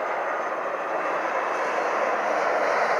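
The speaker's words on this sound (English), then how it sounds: "Ooh, that was 3 Southwest planes." A low-flying Southwest airplane on its landing approach passes overhead with a loud, steady jet engine roar that holds and swells slightly, with no voices over it.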